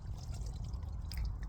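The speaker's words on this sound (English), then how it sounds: "Right now I'm just sitting on the jetty listening to the water" Water laps and trickles softly against a jetty, a faint, gentle gurgling that runs on without talk.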